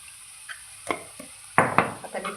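Carrots are stirred in a pan, a spoon scraping and knocking against the metal in a few sharp clacks with a faint sizzle between them.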